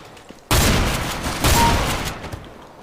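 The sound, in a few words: MP9 SMG gunfire in a video game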